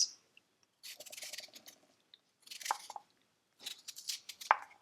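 Potatoes being peeled in a kitchen, heard as three separate bursts of close, dry scraping and rasping separated by near silence.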